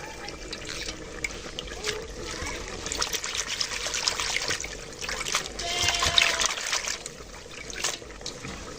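Picked thankuni leaves are washed in water, with a soft, continuous trickling and splashing that rises and falls, close by and without talk.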